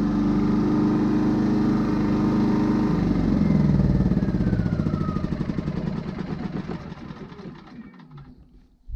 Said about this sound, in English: it's been running 20 minutes we're going to shut off the gas which will shut off the engine